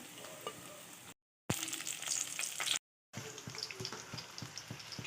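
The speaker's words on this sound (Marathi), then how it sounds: "मिरचीला थोडीशी चीर लावून मी त्याला तर त्याच्यातच तवून घेणार आहे" Green chilies, slit down the middle, fry in hot oil alongside crisp corn pakoras, giving a steady close sizzle with small pops, broken by two brief silent gaps.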